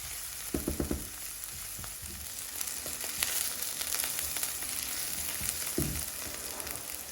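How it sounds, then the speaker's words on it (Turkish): Peppers and onions sautéing in hot oil in a pan, a steady close sizzle with a few clattering knocks and scrapes of a utensil near the start and end. "Şimdi bir yandan da biberlerimin kavrulmasını bekliyorum."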